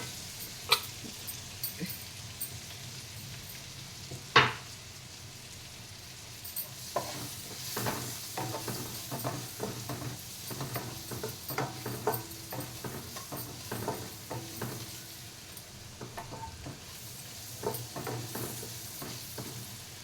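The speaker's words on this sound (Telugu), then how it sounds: "పన్నీర్ మంచిగా ఫ్రై అవ్వాలి పన్నీర్ ఇలా ఫ్రై అవ్వాలండి" Paneer frying in butter in a pan, a low continuous sizzle with scattered small crackles and occasional spatula scrapes. One sharp tap comes early on, and the whole stays fairly quiet and close.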